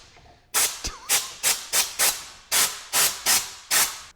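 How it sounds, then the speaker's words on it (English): Compressed air blasts from a compressor nozzle during a Porsche 944 restoration come as about ten loud, sharp hissing bursts in an irregular rhythm, with short pauses between them. "Compressor, be gentle with this, otherwise it will shoot out."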